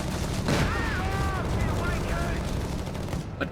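Flak half-track firing in Company of Heroes 3, a burst of sharp gunfire blasts early on and a final crack near the end, set in a rumbling battle ambience beneath commentary voices.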